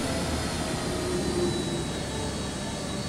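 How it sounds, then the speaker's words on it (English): A steady, loud broadband roar fills the cabin as an airliner's jet engines, a Boeing 737 or 767, spool down on approach, with a faint high whine running over the unbroken hum. "You hear the engine spooling down."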